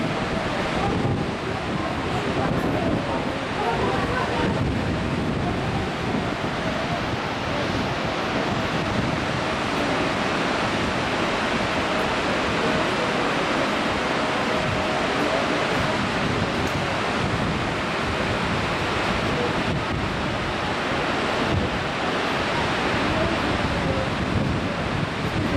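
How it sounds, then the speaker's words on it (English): Two water currents collide in Canada, a continuous churning wash of waves and surf mixed with heavy wind buffeting the microphone for the whole stretch, with no clear talk. "That is the water running into each other."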